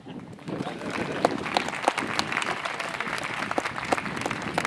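Audience applause after a speaker's closing thanks at a 2013 food benefit event, a steady wash of clapping from a crowd with a few sharper individual claps and faint voices mixed in.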